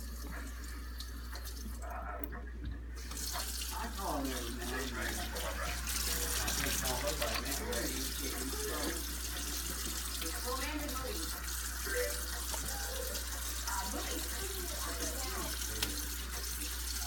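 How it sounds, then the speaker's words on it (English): Hot water runs steadily from a kitchen tap as hands are washed beneath it, a continuous close splashing stream with a person talking over it. "I'm gonna wash my hands."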